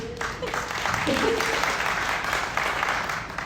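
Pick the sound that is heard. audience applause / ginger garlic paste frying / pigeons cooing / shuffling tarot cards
audience applause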